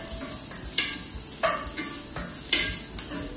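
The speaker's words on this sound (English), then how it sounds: "narinig nyo na yung sizzling sound when you put your onions into your pot" Onions sizzle and crackle in hot oil in a pot while a utensil stirs and scrapes in short repeated strokes.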